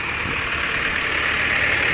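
An Eicher 243 tractor engine idles at a tractor market, giving a steady, continuous mechanical rumble with no talk over it.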